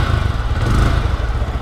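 A 2023 Yamaha R15 M motorcycle engine revs steadily up close, a loud, continuous mechanical drone with a slight swell in the middle and no talking over it.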